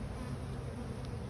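A steady, close honeybee swarm buzz hums without a break, many bees droning together at low volume around a tree.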